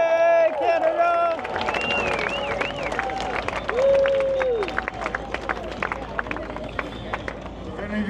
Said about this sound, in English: Let's give our Canadian friends a cheer across the way there.